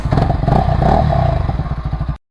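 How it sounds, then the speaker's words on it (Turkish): Voge 250RR single-cylinder motorcycle running with its exhaust removed, a loud, close, rough idle with rapid chugging pulses and clattery mechanical rattle that cuts off abruptly at the end. "Evet arkadaşlar motor ısınsın ondan sonra devam ederiz"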